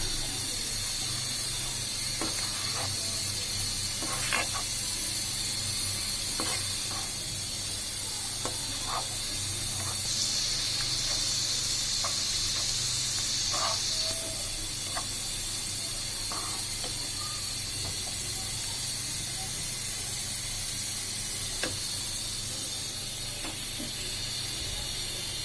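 Onions and cinnamon sticks frying in oil in a pan, a soft steady hiss with occasional faint clicks and taps, fairly quiet and continuous with no speech.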